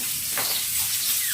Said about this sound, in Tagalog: Nagpiprito ako ng isda.